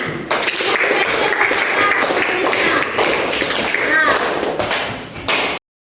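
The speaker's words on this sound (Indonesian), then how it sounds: "Ya, tepuk tangan." Classroom applause from students at the end of an Islamic religion lesson, a dense continuous patter of many hands close by, with murmured voices mixed in, tapering off near the end.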